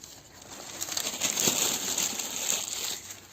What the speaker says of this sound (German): Dann knüllt man das, nicht zu eng und nicht zu locker.